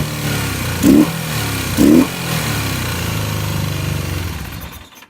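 A 1982 Honda CB450 motorcycle engine idles steadily nearby with a low rumbling throb, blipped twice briefly to a harsher rev before settling, then cut off at the end.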